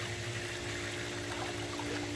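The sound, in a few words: diatomaceous earth powder poured into pool skimmer water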